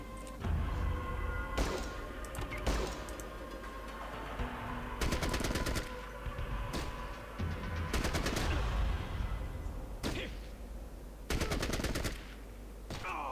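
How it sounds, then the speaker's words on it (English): Submachine gun fire in the Fallout Tactics: Brotherhood of Steel video game, repeated loud rapid bursts of automatic shots separated by short pauses, over a busy game soundscape. "Does look like it's simple submachine gun."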